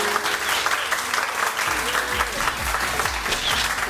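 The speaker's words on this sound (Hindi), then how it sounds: "जोर से तालियां बजेंगी. गो." Studio audience at a morning TV show clapping loudly and continuously in a dense, even burst, with a low music beat entering midway.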